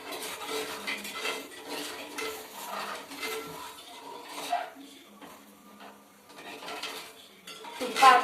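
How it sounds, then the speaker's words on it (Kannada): Sugar being stirred with oil in a pan, heard as close, irregular scraping and clinking of a utensil against the pan over a faint sizzle, louder toward the end, with some talking in the background. "ತಿರ್ಸ್ಕೋಬೇಕು, ಯಾಕಂದ್ರೆ ಸಕ್ಕರೆ ಗಟ್ಟಿಯಾಗ್ಬಿಟ್ಟಿರುತ್ತೆ ಇವಾಗ ಎಣ್ಣೆ ಜೊತೆಗೆ."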